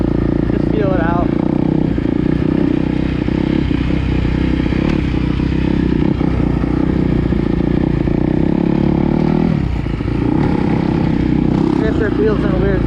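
A 2020 Kawasaki KX250 dirt bike is ridden with a steady, loud, close engine drone that barely dips near the end, with some rattling and scraping mixed in.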